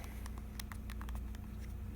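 Typing on the slide-out keyboard of a 2005 HTC Universal / iMate JasJar handheld, a quick irregular run of soft, close clicks and taps over a low steady hum.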